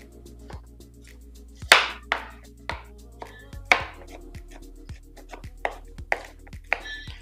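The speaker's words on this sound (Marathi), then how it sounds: "आता आपण ह्याला एकदम बारीक असं चॉप करून घ्यायचंय" Cooked pumpkin being finely chopped on a board with a knife, a series of sharp, uneven chops with a few louder strikes, close and clear with no talking.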